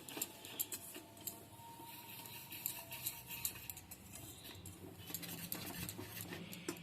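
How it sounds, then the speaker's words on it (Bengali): Spoon scraping and tapping in a bowl while mixing malpua batter of flour, semolina and liquid milk, a steady run of soft clicks and light taps close by. "এবার এই উপকরণগুলো আমি ভালো করে মিশিয়ে নিচ্ছি"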